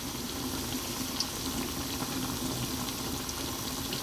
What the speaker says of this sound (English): Now you can hear that the oil is not crazy hot. You can see it's bubbling nicely